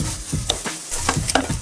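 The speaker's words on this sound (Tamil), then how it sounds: "சும்மா ஒரு 2 நிமிஷம் வதக்கினா போதுங்க தேங்காயை" A quarter of a grated coconut sautés in a pan after cashews and raisins have been fried, with close, loud scraping stir strokes about every half second over a soft sizzle.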